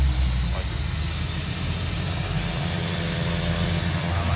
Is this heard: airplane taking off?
yes